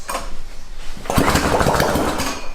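A small DIY go-kart engine running on race fuel sputters to life about a second in, then runs with a rough, loud, uneven chatter and no exhaust or muffling.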